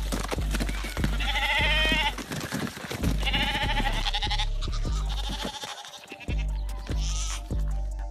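Sheep crowd along an icy road in winter, bleating loudly and repeatedly in overlapping calls, with dull thumps and a bustle of movement throughout.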